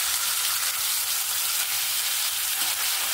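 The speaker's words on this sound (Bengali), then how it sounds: "এবার নুন হলুদ মাখানো মাছটা আমি একটা একটা দিয়ে ভেজে" Black pomfret fish rubbed with salt and turmeric frying in hot oil, giving a steady, close, even sizzle with no talking.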